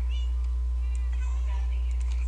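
A cat meows in the Minecraft video game, a few short synthetic mews over a steady low electronic hum, fairly loud and close, with no talking.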